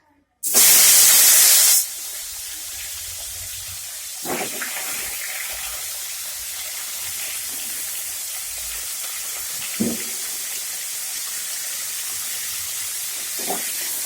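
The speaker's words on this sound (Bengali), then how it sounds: "আলু আর ফুলকপিকে ভালো করে ভেজে নেওয়া হয়েছে" Cauliflower and potatoes fry in a generous amount of oil. A loud burst of spitting sizzle comes first, then it settles into a steady, quieter hiss broken by a few sharp crackles.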